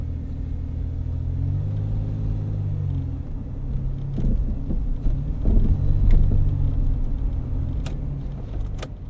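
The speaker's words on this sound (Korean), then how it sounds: "지금 차 시동 소리 나" Low, steady car engine rumble in the horror game Phenomena, with a swell of turnover and revving near the middle and faint clicks and jingles above, close and loud with no talk.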